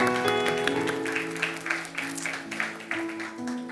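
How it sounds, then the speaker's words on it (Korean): A church congregation applauding during a Sunday worship service, scattered clapping that pulses in uneven bursts beneath a sustained organ or keyboard chord, fading somewhat toward the end. "큰 박수로 축하해 주십시오"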